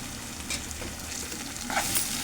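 Bombay masala spice powder with chilli and coriander powder is stirred in a sizzling pan, a steady close frying hiss with scraping strokes of the spoon and a brighter crackle near the end.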